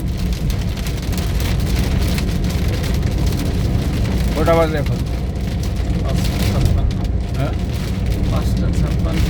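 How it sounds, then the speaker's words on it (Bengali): Heavy rain drums steadily on a vehicle travelling the road from Comilla to Dhaka, with a constant dense patter and road rumble while someone briefly speaks. "বৃষ্টি হচ্ছে, বৃষ্টি বেড়ে গেছে। আমরা বৃষ্টির মধ্যে রওনা চললাম ঢাকার পথে।"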